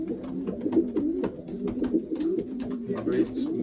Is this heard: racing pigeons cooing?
yes